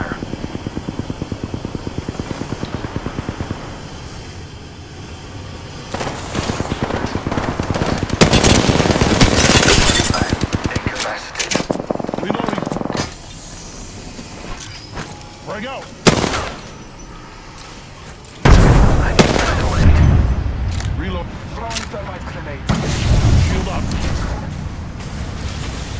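Gunfire rattles through a battle royale match in Apex Legends, machine-gun bursts and single shots loud and close, mixed with engine-like whirring and a voice talking over the action.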